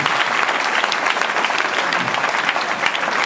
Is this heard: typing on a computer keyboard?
no